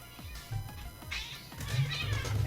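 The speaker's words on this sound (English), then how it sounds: "Cats are fighting." Cats fighting in the Ragnarok Online game, with repeated yowls and caterwauling over a steady low background, the cries growing louder and more insistent toward the end.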